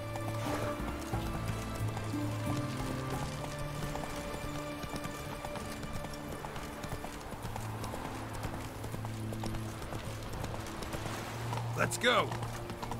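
Roach, the horse in The Witcher 3 game, gallops with rapid rhythmic clip-clop hoofbeats over game music, someone shouting briefly near the end.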